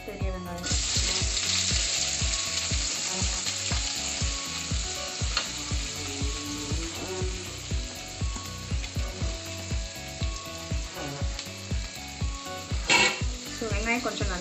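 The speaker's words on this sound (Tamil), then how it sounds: "ஸோ வெங்காயம் கொஞ்சம் நல்லா வதக்கி விடுங்க." Ground onion fries in oil tempered with cumin, a loud continuous sizzle close up, broken by the rhythmic scrape and tap of a spatula stirring the pan.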